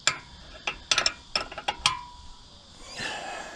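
Ratchet loosening a tight hitch bolt while removing an old trailer hitch, a quick series of sharp metallic clicks and clacks up close, then a softer scraping rustle.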